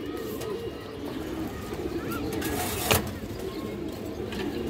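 A pair of Muslodom pigeons coo softly in a bird-selling setting, low repeated throaty calls heard faintly against a quiet background with one brief louder knock.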